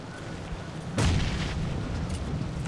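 A grenade explodes in a PUBG Mobile women's tournament match, a single deep booming blast with a sharp onset over steady background game noise, then a rumbling decay.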